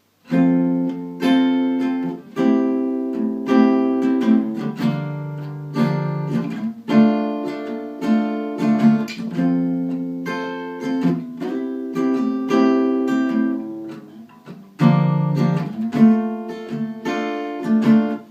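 Strummed guitar chords ring out in a steady pattern, a repeated progression played twice with brief pauses, clear and close with no voices.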